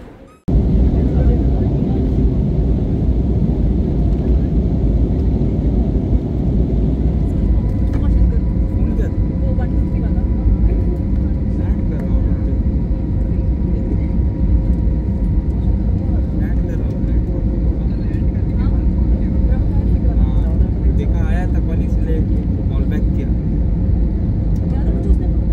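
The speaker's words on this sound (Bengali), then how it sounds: "আমরা এখন ল্যান্ড করছি" Cabin noise of an IndiGo Airlines airplane landing at Jharsuguda, a constant loud low engine and airflow roar that holds steady throughout without pause.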